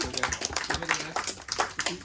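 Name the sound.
audience applause after a card trick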